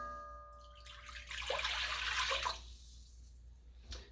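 Water pours into a Dutch oven on the heat, a steady splashing rush of about a second and a half, then a quieter trickle before it tapers off, with no voices.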